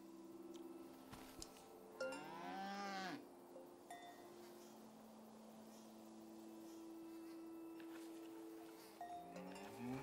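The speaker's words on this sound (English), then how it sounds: "You are a cow and you are named Krasnahorkai." A cow lows once in a long, falling moo in the countryside game Season: A Letter to the Future, against quiet ambience with a faint bell and scattered insect buzzing.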